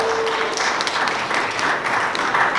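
Audience applause at a steampunk festival cosplay contest, a steady wash of clapping from a crowd that carries on evenly for a few seconds, with faint voices mixed in.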